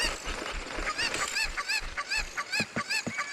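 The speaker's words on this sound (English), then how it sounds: "they're called cuckoos, but I don't know. I just called them chicken" Cucco chickens in Zelda Ocarina of Time Master Quest 3D make a run of loud, repeated honking squawks, rhythmic and close, over game background sounds.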